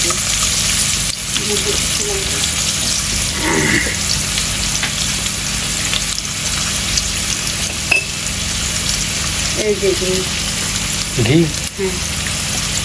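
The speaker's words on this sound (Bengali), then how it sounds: "মানে পেঁয়াজ বাজা হইতে আছে" Onions fry in a pan for a chicken pulao, a loud continuous sizzle with occasional stirring scrapes, while people talk quietly in the background.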